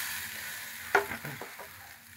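Water poured into hot oil in a pan of fish curry hits with one sharp splash, then a crackling sizzle fades over the next second, fairly quiet and close.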